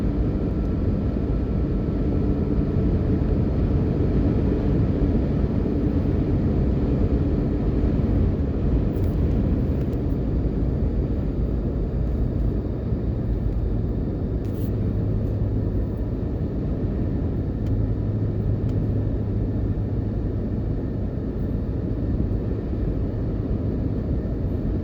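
A car cruises along Jamaica's North South Highway, a steady loud broadband road and engine rumble with tyre roar from start to finish, and no talking.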